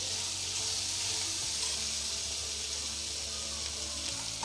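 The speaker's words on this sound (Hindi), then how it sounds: "ये अपने ही पानी में पक रही हैं।" Capsicum and other vegetables soften in their own water in a covered pan for chicken vegetable macaroni, giving a soft, steady hiss and low sizzle with no talking.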